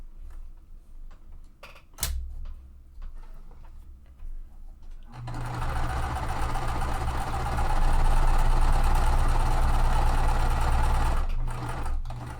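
A sewing machine stitches small quilt pieces, starting with a few light clicks and taps before settling into a fast, steady mechanical whir that runs continuously and close by.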